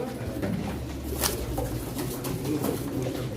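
Pigeons cooing steadily at a pigeon auction, a near, continuous soft murmur of several birds with a few brief sharper calls and wing flutters, no talk audible.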